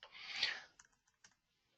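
A burst of rapid typing on a computer keyboard, followed by a few sparse, separate key clicks that trail off into quiet; close, fairly soft, with no voices.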